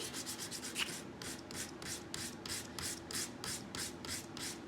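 Sandpaper rubbed firmly back and forth on the beak of a small wooden chick, a close, rhythmic rasping with about a dozen even strokes and no talking.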